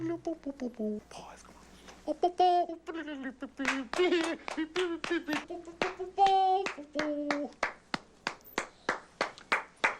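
Hand claps in a scene from the film California Split, first scattered under talking voices, then a steady run of sharp, evenly spaced claps that stands alone toward the end.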